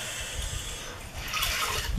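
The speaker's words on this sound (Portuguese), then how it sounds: "venho com um balde e um pano bem absorvente" Water sloshing and splashing as an absorbent cloth is soaked in a bucket of plain water, close and moderately loud, with a brief louder slosh partway through.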